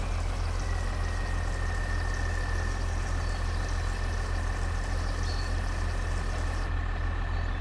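A tractor engine idles steadily in a farming video game, a constant low rumble with a faint mechanical hum on top, close and even throughout with no talk.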